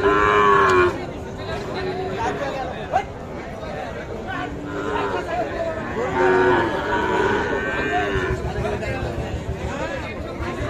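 Gir and Sahiwal cattle moo repeatedly at a busy livestock market, several drawn-out lowing calls close by, mixed with crowd chatter and people talking throughout.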